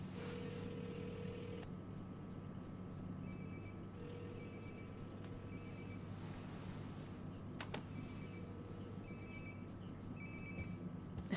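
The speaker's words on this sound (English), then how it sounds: "Sounds like my phone is definitely nearby." A mobile phone rings in the video game Life is Strange: Before the Storm, its repeating tone pattern faintly audible in bursts over a steady background hum, with no voices.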